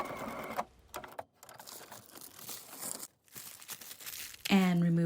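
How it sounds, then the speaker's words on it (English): Tissue paper is torn and pulled away from freshly sewn vinyl, giving close crinkling and ripping bursts broken by short silences, followed by a brief whir of a sewing machine at the end. "And remove all the tissue paper."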